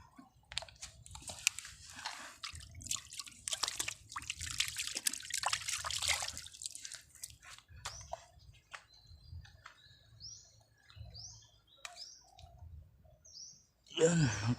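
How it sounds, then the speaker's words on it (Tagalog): Water splashes and trickles as hands are washed outdoors at a fishing spot, soft irregular dribbling and rubbing close by, with birds chirping faintly in the background and a brief louder knock near the end. "Hugas muna tayo ng kamay."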